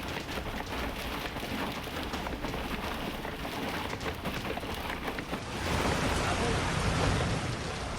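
Heavy rain pours steadily in Niphad, Nashik, a dense unbroken hiss of drops striking surfaces that swells louder in the last few seconds, with no clear thunderclap standing out.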